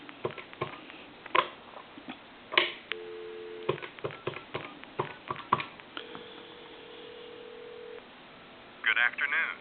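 Sony IT-M10 two-line telephone on a regular line, giving short steady dial-tone and dialing tones between clicks and handling noises, heard faintly at close range with a burst of tones at the end.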